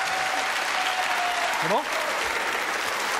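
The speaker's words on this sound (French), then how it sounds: "Mesdames, messieurs, vous pouvez applaudir." Audience applause fills a French TV studio as a steady, dense roar of clapping, with a brief spoken question cutting through midway.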